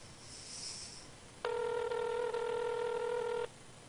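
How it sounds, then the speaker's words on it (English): Telephone ringback tone from an outgoing call, a steady electronic tone lasting about two seconds, fairly loud over faint background hiss. "I can hear that ringing. Yep, I'm calling him."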